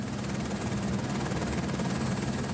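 A helicopter arriving to pick up a patient in the remote Mafate cirque on Réunion, heard as a steady, dense rotor and engine roar with a low pulsing throb, continuous and fairly loud throughout.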